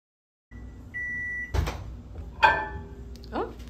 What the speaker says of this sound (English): I need lukewarm water and lukewarm milk, so I'm gonna put these in the microwave